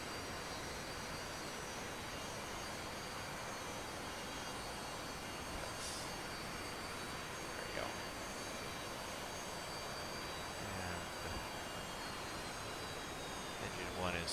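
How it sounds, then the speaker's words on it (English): A UH-60L Black Hawk helicopter engine starts up in a flight simulator mod, giving a steady, continuous turbine roar and whine that holds at an even level throughout, with a few faint higher tones drifting over it. "Engine 1 is stabilizing."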